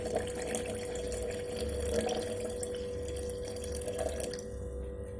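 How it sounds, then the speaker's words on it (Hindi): Water is poured into an elephant foot yam and velvet bean pickle mixture, giving a steady, soft liquid trickle and splash that runs for several seconds at low volume without speech. "तो ये पानी हमने इसमें डाल दिया है"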